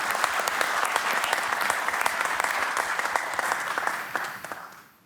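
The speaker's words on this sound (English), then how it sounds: "Can I have an applause for him?" Audience applause for a speaker at a talk, a dense steady burst of many hands clapping that holds strong, then fades out over the last second.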